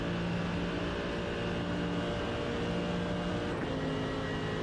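GT3 race car in a sim racing game at Spa-Francorchamps, engine droning steadily at full throttle with a sustained tonal whine and a brief shift-like blip near the end, no voices.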